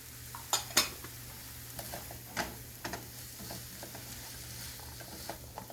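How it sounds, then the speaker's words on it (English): Green pepper going into a buttered omelet pan gives a faint, steady sizzle, with a few sharp utensil clicks and taps on the pan early and scattered throughout; no talking. "And to that I'm going to add green pepper"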